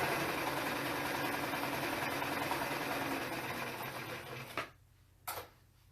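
A sewing machine runs a steady continuous stitch around a small fabric fox coin pouch, close and even, then stops abruptly and gives one short final burst.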